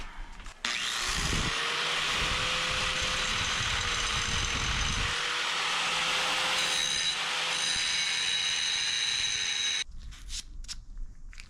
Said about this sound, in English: we had to grind a little bit of this out